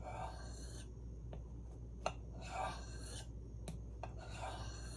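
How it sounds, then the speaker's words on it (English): A knife blade being sharpened freehand on a whetstone lubricated with Smith's honing oil, giving soft, steady rasping strokes in repeated bursts at close range, with a few light clicks between passes and no talking. "Little awkward sharpening in this knife, in this style."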